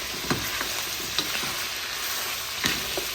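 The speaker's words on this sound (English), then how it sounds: "I'm going to add about 2 tablespoons ginger and garlic, 2 tablespoons, and mix well" Ginger garlic paste sizzles and fries in a chicken karahi pan, with continuous crackling and a few sharp stirring scrapes.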